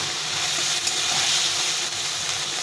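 Yam and potato being stir-fried with salt and turmeric for a fish curry make a loud, continuous hissing sizzle close up, with faint stirring throughout.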